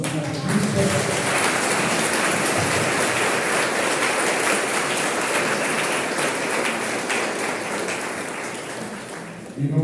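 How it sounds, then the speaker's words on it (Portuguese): A congregation at a Catholic Mass applauds steadily for about ten seconds, dense clapping that swells at the start and gradually tapers off. "Um aplauso para o nosso catequista."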